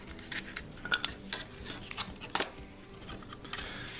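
A blade drawn through card along a ruler, with soft scraping cuts and small clicks over faint background noise, close and quiet.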